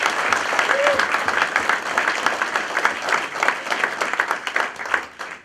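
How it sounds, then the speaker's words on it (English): A press-conference crowd gives a round of applause, a full, steady stretch of clapping with individual claps audible that loosens slightly toward the end. "Can I get a round of applause?"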